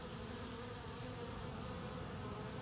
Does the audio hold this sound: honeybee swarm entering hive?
yes